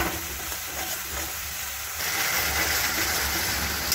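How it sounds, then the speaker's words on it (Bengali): Tomato paste for a chicken and potato curry is stir-fried in a pan, giving a dense, constant sizzle that grows louder halfway through, with faint scraping underneath and no voices. "টমেটো বাটাটাকে ভালো করে কষিয়ে নিতে হবে।"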